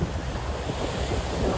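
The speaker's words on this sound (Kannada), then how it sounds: "ಗಾಳಿನೂ ಭಾಳ ಬರಾಕತ್ತೈತಿ ಈಗ." Strong wind buffets the microphone on a cold beach while surf roars in a dense, steady wash, loud and close, with no voices.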